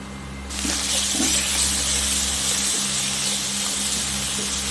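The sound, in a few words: potatoes frying in a pan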